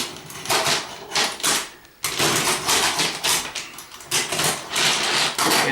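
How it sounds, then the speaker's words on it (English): The backing of a stone mosaic tile sheet is cut away in a series of close, rough scraping and snipping bursts, loud and irregular, with one brief pause partway through. "I'm just going to cut away the backing"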